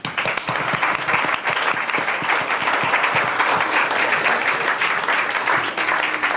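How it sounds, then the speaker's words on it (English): A café audience breaks into sustained, dense applause, loud and close, with many hands clapping steadily throughout. "a round of applause to you"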